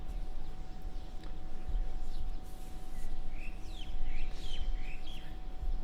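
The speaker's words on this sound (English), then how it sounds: "it's kind of weird hearing these chirping birds who are absolutely clueless" Small birds chirp in short, faint twittering bursts over a steady low background hum and a constant tone, with scattered calls clustering toward the end.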